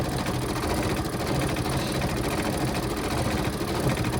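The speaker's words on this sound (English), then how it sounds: "we'll change the thread again, and it will stitch the foot with black" An embroidery machine runs continuously and loudly up close, its rapid needle chatter stitching a gnome's foot in black thread without pause.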